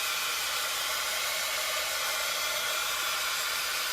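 A heat gun blows steadily while drying a stencil, giving a constant close-up hissing whoosh of air with no change in pitch or level for several seconds.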